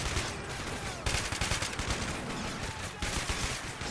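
Rapid bursts of automatic gunfire in a video game, covering fire from Stryker armored vehicles during a special-forces assault on a house, loud and close with a few short gaps between volleys.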